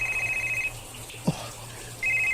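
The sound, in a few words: cellphone ringing with incoming call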